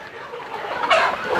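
Chickens cluck softly on a small backyard chicken farm built against a block wall. The murmur is steady and close, with a slightly louder burst near the end.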